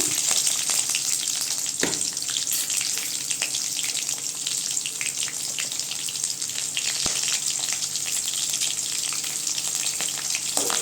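Onions fry in a pan with cinnamon, cloves and curry leaves, making a loud, steady close-up sizzle with occasional stirring clicks and knocks, no voices.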